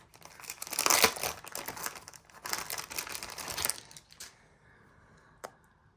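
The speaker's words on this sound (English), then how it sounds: "but instead of glue, I'm going to use, I'm going to use some double-sided tape" Double-sided scrapbooking tape pulled off its roll and pressed onto paper during frame assembly, a run of close crinkling, tearing rustles over about four seconds, then quieter with one sharp tap near the end.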